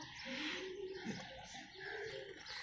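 Pigeons flying over a rooftop flock in Pakistan, with soft cooing and bird calls drifting faintly through quiet outdoor ambience, no voices over them.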